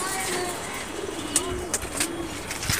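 Several caged pigeons coo in low, throaty rolling phrases, moderately close, over a steady background hiss with a few faint higher clicks.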